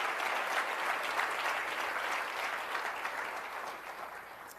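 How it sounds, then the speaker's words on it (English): An audience at a military child education keynote address breaks into steady, sustained applause, a dense wash of clapping from a large crowd with no pauses. "it's a good reason to clap."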